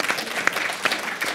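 An audience at the end of a long day of sessions claps in a brief, steady burst of applause with a few sharper individual claps.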